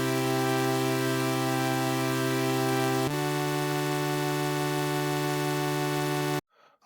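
A sustained saw-wave synth chord from FL Studio's 3x Oscillator drones steadily, shifting slightly partway through, then cuts off abruptly near the end.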